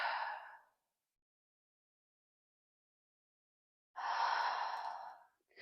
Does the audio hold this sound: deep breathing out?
yes